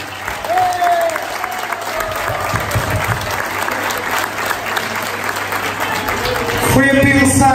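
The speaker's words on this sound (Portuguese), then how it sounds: "Uma salva de palmas para ele." Audience at the 2019 Agualva de Cima anniversary celebration in Poceirão, Palmela, applauding a musician, steady clapping with crowd noise lasting throughout, loud and close, with voices mixed in.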